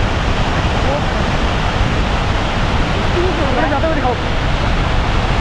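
Loud, steady rushing of a swollen mountain river in flood, the Bhagirathi headwaters, fills the scene with a dense broadband roar; faint voices may be buried beneath it.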